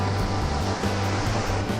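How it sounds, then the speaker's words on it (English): Ocean waves breaking against the shore near a breakwater, a broad rushing wash of surf with a low rumbling undertone, steady and fairly loud with no voices. "as the waves are breaking"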